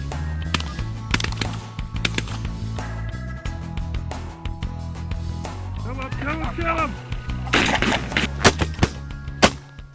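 Shotgun blasts during a goose hunt in Saskatchewan, a series of sharp reports scattered over steady background noise, with people shouting and talking around the shots.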